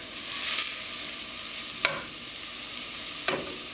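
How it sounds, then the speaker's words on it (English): Vegetables sauteing in a pan on medium-low heat give a continuous, moderate sizzle up close, broken by two sharp utensil taps against the pan, with no voices. "So while this is sauteing, this is on medium low."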